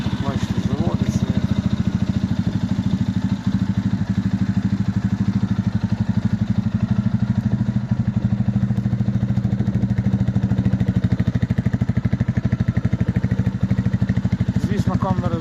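A 2024 Lifan K19 250cc motorcycle engine idles, steady and loud with an even, fast-pulsing throb and mechanical clatter that continue throughout, close up with no voices over it.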